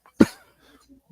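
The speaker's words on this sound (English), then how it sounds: "No, that was coughing." A single short cough, fairly close and clear, followed by near silence.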